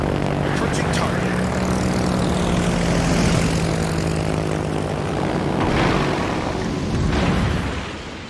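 A torpedo bomber's propeller engine droning loud and steady in World of Warships, a thick buzzing roar that swells and fades near the end, with a voice speaking over it.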